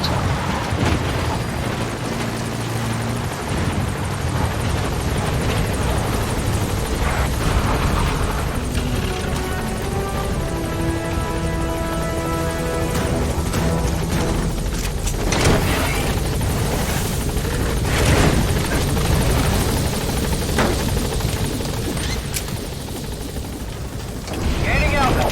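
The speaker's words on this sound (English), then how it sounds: "Support helicopter has arrived." Support helicopter in the Metal Gear Solid V video game arriving at a landing zone: a loud, steady rotor drone and engine roar fills the whole stretch, swelling and shifting, with radio-style voices talking over it.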